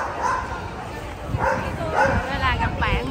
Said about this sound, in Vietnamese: Vô coi mấy con chó biểu diễn.